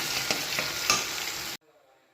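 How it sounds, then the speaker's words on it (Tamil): Sliced big onions sauté in hot oil for a chicken kulambu, giving a dense close sizzle with a few spoon scrapes before cutting off sharply to near silence. "இது நல்லா வதக்கிக்கலாம்."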